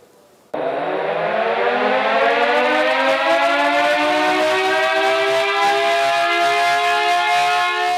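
A loud siren in Kannur, sounded by the city corporation, bursts on and rises in pitch, then holds a steady, piercing wail for several seconds.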